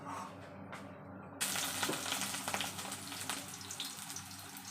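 Nutrela soy chunks frying in a pan. Oil sizzles steadily close by, then grows sharply louder and brighter as the frying picks up, with faint crackles and some background noise.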